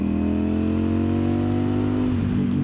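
A 2025 Ducati Streetfighter V4S motorbike pulling hard in top gear, its engine a close, steady droning roar whose pitch holds then slightly shifts near the end, heard alone without talk.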